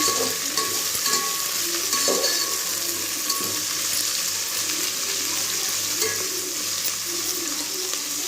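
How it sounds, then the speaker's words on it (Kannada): Vegetables, carrots among them, sizzle steadily in hot oil in a pan while upma is cooked, a continuous close frying hiss with occasional soft clinks and stirring sounds. "ಇದು ಎಣ್ಣೆಯಲ್ಲೇ ಫ್ರೈ ಆದರೆ ಬೇಗ ಬೇಯುತ್ತೆ"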